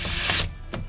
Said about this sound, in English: Time to drill this bitch.